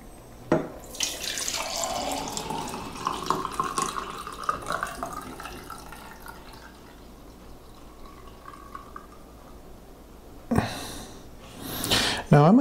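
Liquid poured off from a laboratory beaker during comic book restoration, a steady running trickle and splash lasting several seconds, ending in a few louder bursts of water and handling noise near the close.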